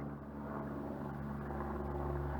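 A helicopter passes directly overhead in the desert, giving a steady, loud, low droning rotor-and-engine roar that holds throughout with no voices.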